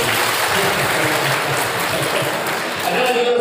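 Students applaud at a motivational seminar for vocational high school pupils in Ciawi, Bogor, giving a dense, steady wash of crowd clapping for the full stretch, with some voices mixed in.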